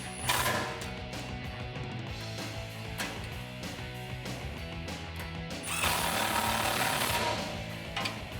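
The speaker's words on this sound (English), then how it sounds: "you'll need a 10mm socket and wrench to tighten all this stuff down" A 10mm socket wrench tightens M6 hex head bolts on a tubular off-road rear bumper for a Silverado or Sierra 1500 pickup, with a continuous metallic ratcheting clatter that swells louder toward the end.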